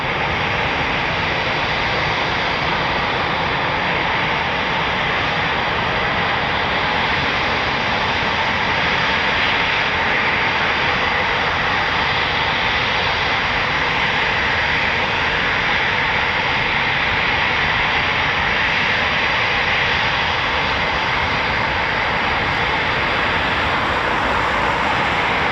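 Eurofighter Typhoon FGR4 jet engine at RAF Coningsby, a loud, steady broadband roar that holds for the whole stretch with no voices over it.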